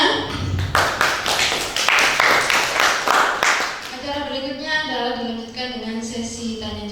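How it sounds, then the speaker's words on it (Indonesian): Audience applause at an Indonesian school teachers' dissemination session on positive discipline, a few seconds of brisk clapping from a room of people that tapers off as a voice carries on over it. "Tepuk tangan untuk kita semuanya."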